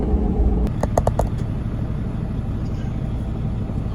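A truck stuck in mud is being pulled free, heard as a loud, steady low engine rumble close by, with a short run of rattling knocks early on and no talking.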